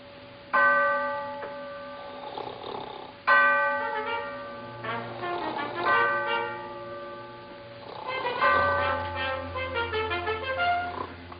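A ship's bell strikes four times in spaced pairs, each ring clear and metallic with a long fading ring-out, heard loud and close in a 1936 film scene with low music underneath and no talking.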